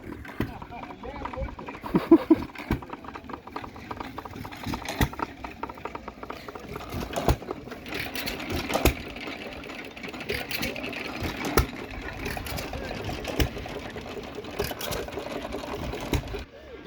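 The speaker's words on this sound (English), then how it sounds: "Some hit and miss engines." Antique hit-and-miss engines running at a fall farm equipment show, giving a steady mechanical chugging with irregular sharp pops, with people talking nearby throughout.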